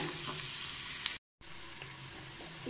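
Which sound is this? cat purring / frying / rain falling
frying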